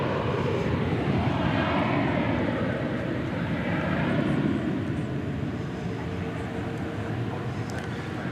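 A Boeing Dreamliner jet at DFW Airport, a broad continuous engine roar at a steady, fairly loud level from moderate distance, with no speech heard.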